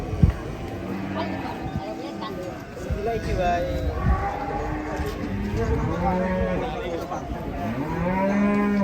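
Several cows moo with long, low, wavering calls, some overlapping, over a busy outdoor background with other voices faintly present.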